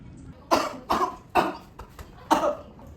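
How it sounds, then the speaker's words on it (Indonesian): Four or five harsh coughs in a row from a person with tuberculosis, close and loud, each a short burst with brief gaps between them and no talking. "kok batuk-batuk terus dari kemarin?"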